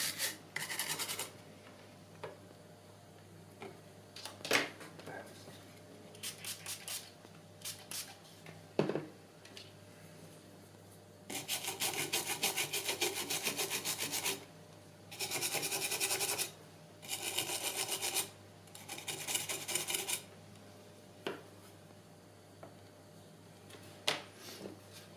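Brush scrubbing the circuit board of an Amiga A501 expansion, close scratchy rubbing in short bursts and longer strokes separated by quiet pauses and small taps.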